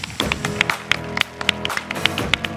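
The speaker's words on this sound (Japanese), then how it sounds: "どうぞ盛大な拍手を送りいただければと思います。" An audience applauds at the end of a talk, with scattered, uneven hand claps sounding close and crisp for a few seconds.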